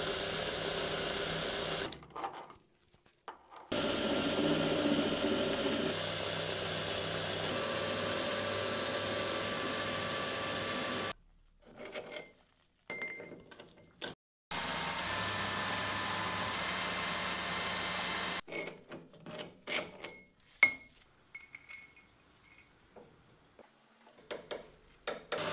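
Metal lathe turning a work holding mandrel between centres in a home workshop, a steady mechanical running hum broken by stops and bursts of clicking and tapping, close and moderately quiet.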